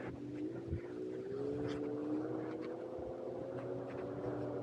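An isinwheel S10 Plus electric scooter rides at speed, a steady rising electric motor whine over constant wind and road rumble, with a few faint bumps.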